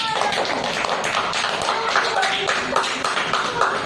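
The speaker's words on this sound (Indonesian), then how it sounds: "Pintar, tepuk tangan" Children in a classroom clap their hands in a quick, uneven patter of sharp claps, with voices mixed in among the clapping.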